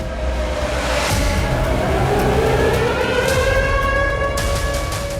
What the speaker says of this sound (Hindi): बेल्गोरोड, मॉस्को से लेकर व्लादिवोस्तोक तक रूस में सायरन गूंज रहे हैं